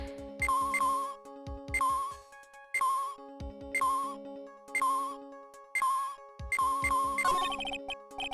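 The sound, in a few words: cell phone ringing in video game Phoenix Wright: Ace Attorney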